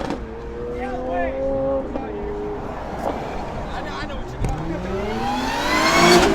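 Supercharged Corvette engine revving and pulling away at a Cars & Coffee meet, rising harmonic sweeps climbing and falling across several seconds, close and loud, with people talking over it.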